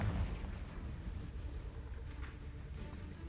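A Confringo fire spell blasts in the Hogwarts Legacy video game, a deep booming burst that rolls into a sustained low rumble and crackle for several seconds, fairly steady and unaccompanied by talk.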